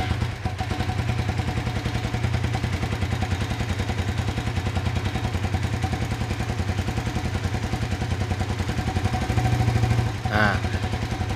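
A fuel-injected Suzuki FU 150 motorcycle idles steadily close by with an even, rapid mechanical clatter, while a voice speaks faintly underneath.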